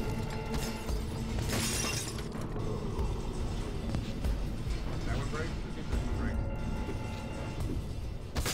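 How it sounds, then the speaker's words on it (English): Glass shattering under gunfire in Garry's Mod, a bright crash near the start followed by scattered breaking and debris amid continuous game noise, with voices talking over it. "Stop shooting the glass!"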